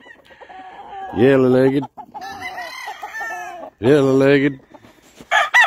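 A yellow-legged gamefowl rooster on an Oklahoma farm crows twice, loud and close, each call a long, strained cock-a-doodle-doo, while someone talks in between and other birds cluck faintly.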